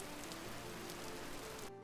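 Steady rain patters on surfaces in the Vintage Story survival game, a soft continuous hiss that runs evenly and then cuts off abruptly near the end.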